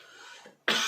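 A single sharp cough bursts out near the end after a quiet moment, close and loud, from a preacher during a church sermon.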